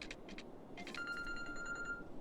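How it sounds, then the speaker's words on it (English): A phone rings with a short patterned electronic ringtone, a few quick chirps and then a steady tone, fairly faint behind a constant background hiss. "That was my phone."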